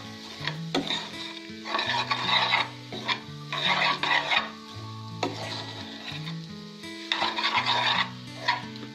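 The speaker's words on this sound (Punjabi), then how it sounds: "ਇਸ ਨੂੰ ਮਿਕਸ ਕਰ ਦੇਵਾਂਗੇ।" Paneer bhurji made with fresh milk paneer is mixed in a pan, with rhythmic bursts of scraping and light sizzle repeating every couple of seconds over background music.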